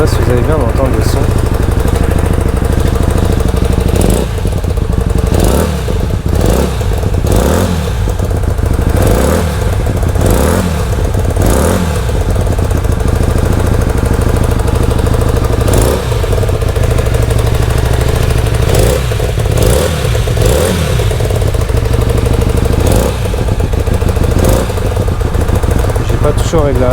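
A Hyosung GT Comet motorcycle engine runs steadily after a carburetor rebuild, with a loud, close idle and some uneven knocking and blips of throttle, while someone talks over it at times.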